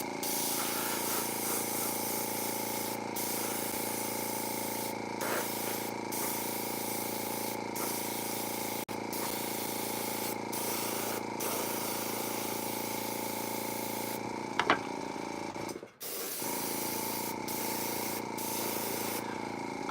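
An airbrush sprays paint on toys in a continuous, steady hiss that runs almost the whole time, broken by a few brief pauses and one short stop near the end.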